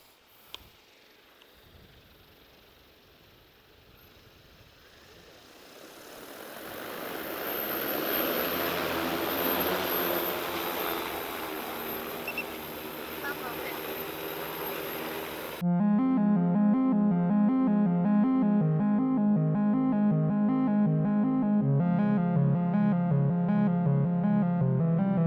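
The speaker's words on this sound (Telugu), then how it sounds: "45 కేజీల డ్రోన్ ఇప్పుడు టేక్ ఆఫ్ అవబోతుంది" A 45 kg X9 agricultural drone spooling up for takeoff, its rotor whine building from near silence into a loud, sustained roar that cuts off abruptly as music begins.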